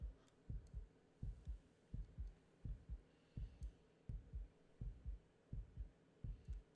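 Heartbeat sound effect from the Tsukihime visual novel game, a soft low double thump repeating steadily about twice per second with a faint hum beneath.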